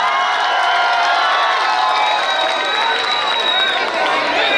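Large crowd at a political rally in Aurangabad cheering and applauding to welcome a speaker, a loud, dense, continuous roar with shouts and whistles throughout.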